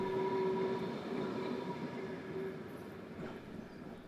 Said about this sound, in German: Während die Lok umsetzt